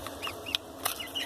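An Olandsk Dwarf hen gives soft, rapid clucks close by, a brief run of chattering notes with a couple of sharper peaks.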